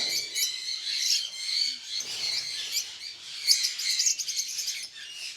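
Pet lovebirds chirping and squawking in an outdoor aviary colony as they are released, a dense, continuous chorus of high tweets and calls close by, with no talking.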